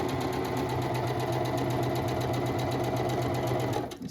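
A sewing machine stitches stretched knit fabric along the seam allowance, giving a steady, loud, continuous mechanical whir with a fast rhythmic needle pulse that runs unbroken for about four seconds and then stops abruptly.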